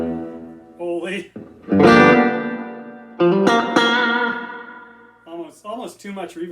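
Electric guitar played through a Bugera G5 Infinium amp head on the clean channel with the reverb turned fully up, loud chords and notes swelling into long washy echoing tails, with a pause between phrases.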